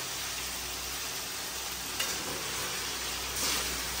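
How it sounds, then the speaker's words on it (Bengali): Spicy noodles cooking in a pan while a large black spoon stirs them, giving a steady soft sizzle with a few faint scrapes, no talking. "সে এখন মজাদার নুডলস রান্না করতেছে"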